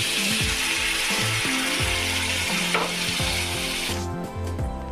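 Water poured onto fried masala of onion and tomato for a small-fish paturi curry, raising a loud, steady, hissing sizzle throughout, with a sharper burst of spitting near the end.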